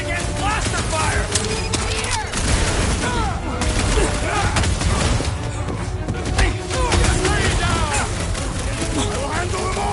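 Rapid blaster fire in a Guardians of the Galaxy fight aboard a ship near its reactor, dense overlapping shots and booms. Voices keep talking over the shooting throughout.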